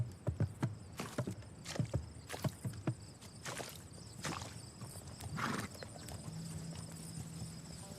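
Horse hooves clop through mud in the video game Legend of Khiimori, with a quick burst of close, irregular steps at first. A softer squelching trudge follows, and a horse briefly whinnies.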